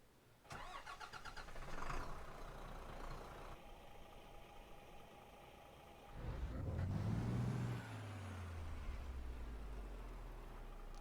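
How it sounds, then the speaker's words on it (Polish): A Scania truck engine cranks and fires up in the Euro Truck Simulator 2 video game, a loud starter burst followed by a rising rev that settles into a steady low idle, with no talking. "posłuchacie jak ta skania odpala"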